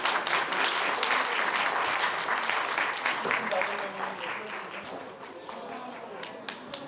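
A crowd at a Korean first-birthday party claps loudly and densely, strong at first and gradually thinning and softening toward the end, with faint voices underneath.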